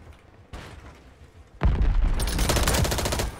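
Gunshots in the video game Warzone 3 begin with scattered softer shots, then a sudden loud, close burst of rapid automatic fire with booming impacts fills the rest, without speech.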